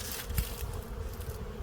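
Honey bees in a full hive box in spring give a low, steady buzz with a faint crackle, heard close and quiet for a moment with no talking.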